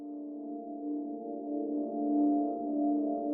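Omnisphere soundscape patch run through UVI filters in series: a sustained, steady synth drone with layered tonal bands, slowly swelling in level and cut off by a brief bright click at the end.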